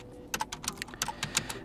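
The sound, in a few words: typing a command on a computer keyboard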